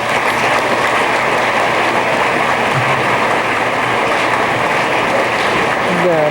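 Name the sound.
audience applauding award winners at a convention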